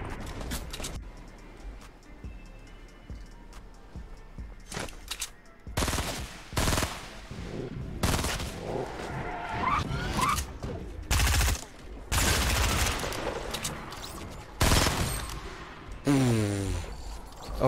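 Rapid bursts of AK-47 gunfire in Fortnite, loud and close, repeating in clustered volleys across the whole stretch over game ambience and mechanical clicks, with no speech.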